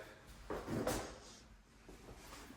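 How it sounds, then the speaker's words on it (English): Closet drawers in a California Closets system in a luxury home in Henderson, Nevada, slide open and shut with one soft, quiet rolling thump in a hushed room. "look at these California closets here. Some drawers."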